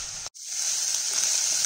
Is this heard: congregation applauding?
no